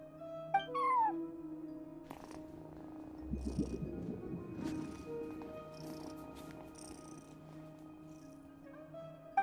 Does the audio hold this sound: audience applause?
no